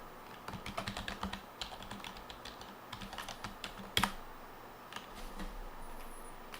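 A terminal command is typed on a computer keyboard as a run of quick, light key taps with brief pauses and one sharper keystroke, close and fairly quiet, with no talking.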